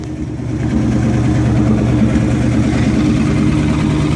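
An old car engine runs at a steady idle, a low, even rumble that starts slightly softer and then holds constant, close and alone.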